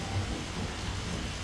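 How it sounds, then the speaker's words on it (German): A thunderstorm with rain in the farming game Professional Farming: steady, dense rainfall hiss with a low thunder rumble underneath, continuous and fairly soft, no voices. "Regen."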